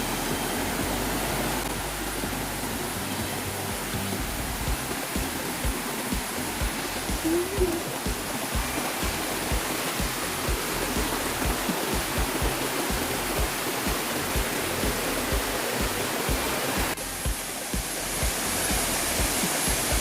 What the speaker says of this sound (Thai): ทุกคนได้ยินเสียงน้ำไหม นี่คือน้ำตกเห็นแบบไกลๆ